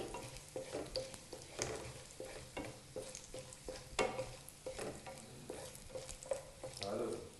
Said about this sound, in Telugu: ఎండుమిర్చి వేసుకొని కలుపుకోవాలి